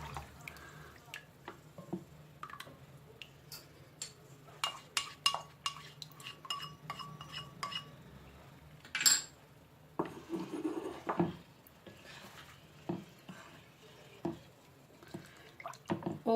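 A flour, milk and crème fraîche mixture goes into a pot of mushroom soup, with soft drips, pours and scattered clinks of a spoon against cookware in a quiet kitchen.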